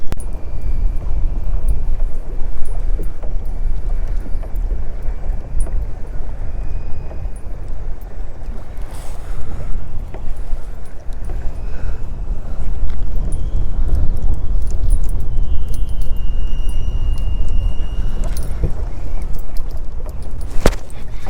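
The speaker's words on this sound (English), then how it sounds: "it is crazy windy out here today" Steady, heavy wind buffets the microphone on a lake with a constant low rumble and roar throughout, with faint distant sounds barely audible beneath it.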